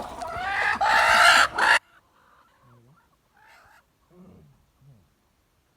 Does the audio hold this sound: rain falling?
no